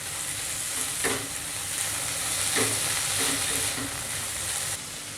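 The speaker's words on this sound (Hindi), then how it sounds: "1 मिनट फ्लेम को हाई करके हम तमाम चीज़ों को पका लेंगे।" Shredded cabbage and sliced capsicum cooking on high flame for Chinese-style chicken kababs, a loud, even sizzle with a few spoon scrapes and stirs across the pan.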